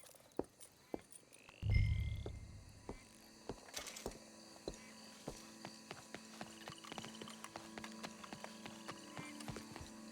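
Horse hooves clip-clopping in Red Dead Redemption 2, a steady sequence of sharp hoof clops on hard ground after a louder thud, with faint ambient game sounds and creaks behind.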